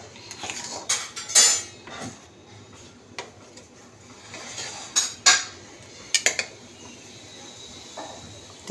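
Roasted semolina being scraped and tipped out of a pan with a metal utensil, several separate clinks and scrapes with quiet gaps between them, fairly close and with no voices.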